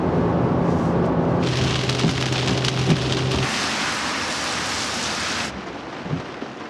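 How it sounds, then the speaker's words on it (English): Steady, heavy rain pours down in a dense hiss, with a low rumble underneath, continuous and close throughout. "So I'm here and it is raining"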